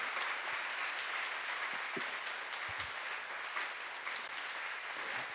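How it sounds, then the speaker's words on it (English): An audience at a TEDx salon event on children's mental health applauds, giving an even, sustained patter of many hands clapping at moderate volume for several seconds. "please join me in a round of applause for our brave parents"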